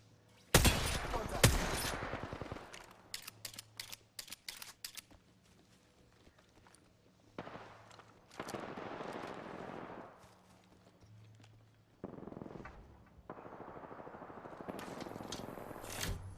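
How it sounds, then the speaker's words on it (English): Gunfire exchange in Apex Legends: dense bursts of rapid shots, loud at first, then scattered volleys and fainter distant firing with pauses between. "Real even exchange of fire here."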